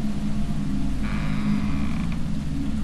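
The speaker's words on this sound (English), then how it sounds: "Listen to that squeaky wooden door" A squeaky wooden door creaking in Deadly Premonition, a thin sustained creak rising over a loud, steady low rumble of game ambience for about a second.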